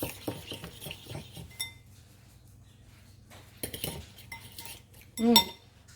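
Sandwich spread for BLTs being mixed in a bowl, giving soft utensil scraping and stirring clicks in short bursts with a sharper clink near the end, against a low steady hum.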